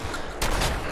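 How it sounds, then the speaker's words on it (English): Gunfire in the Fallout 4 video game: a short burst of loud shots breaks out near the middle of the second over a low background of game ambience. "Oh no, they fired."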